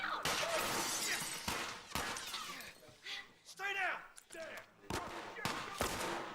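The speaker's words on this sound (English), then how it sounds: "So I'm gonna try to use the revolver here, because it's really accurate." Revolver shots fire in The Last of Us gameplay, several sharp broadband cracks spaced through the passage, mixed over ongoing game sounds and voices.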